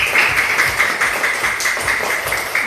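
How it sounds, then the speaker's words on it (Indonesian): A class of students claps together in a classroom during a teaching session, a steady run of fairly loud, even hand claps that carries on without a break, with no voices over it. "tepuk tangan dulu."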